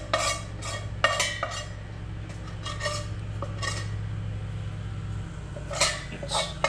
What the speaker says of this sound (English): so I can get a good hold of the pan. I'm going to just scrape as much as possible.